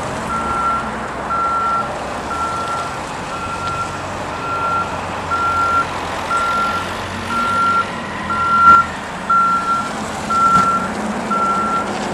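A Doosan 5,000 lb forklift on pneumatic tires sounds a steady reversing alarm, evenly spaced beeps repeating through the whole stretch over a low diesel engine rumble, with some clanks and shifts of machinery near the end.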